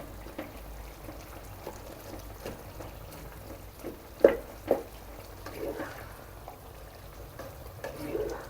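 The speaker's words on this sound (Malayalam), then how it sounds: "കിഴങ്ങൊക്കെ ഒന്ന് ഉടച്ചു കൊടുക്കേ." Potatoes are mashed into a cabbage and potato curry in a pan, with soft squelching, scraping and a few sharper spoon knocks against the pot over a low simmering sizzle.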